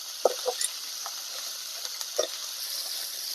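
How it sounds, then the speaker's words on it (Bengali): Crab frying in a pan over medium heat: a steady, close hiss of sizzling oil with a few sharp pops and spatters near the start, running alone without talk. "মিডিয়াম আঁচ রেখে ক্যাঁকড়াটাকে ভালো করে ভেজে নেব"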